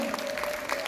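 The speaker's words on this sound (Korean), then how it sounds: "박수로 모시겠습니다" Steady applause from an audience of older village women at a seniors' health-exercise showcase, a continuous even patter of clapping with a faint steady tone beneath, no voices over it.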